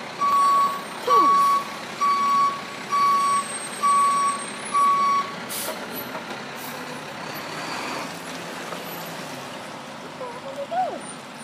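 A tow truck backs up beside a broken-down transit bus, its reversing alarm sounding a steady series of about six loud beeps over low engine rumble and outdoor noise, then the beeping stops while traffic hum continues.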